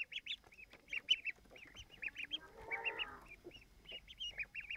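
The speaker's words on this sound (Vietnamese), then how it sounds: "Con vịt nhỏ nhỉ?" Baby ducklings giving a stream of high, thin peeping calls at close range, broken briefly by a lower, rougher honking call.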